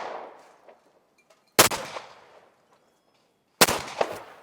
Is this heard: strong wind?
no